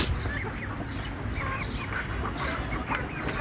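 Native village chickens cluck in scattered, faint calls over a steady, noisy outdoor background with no talking.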